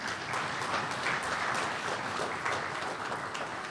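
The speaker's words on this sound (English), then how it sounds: "Could we give them all a round of applause?" An audience at a national consultation on the economy gives a dense, even round of applause, many hands clapping continuously at steady volume with no voices over it.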